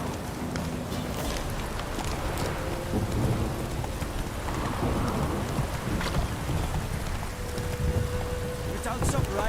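Heavy steady downpour fills the scene with dense hiss and patter, low thunder rumbling beneath, and occasional clip-clop and faint voices in the storm.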